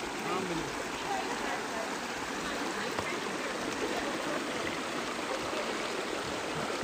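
Water flowing steadily along a stream pathway near Wli waterfall in the Volta Region of Ghana, a close, continuous broadband rush that holds the same level throughout without pauses.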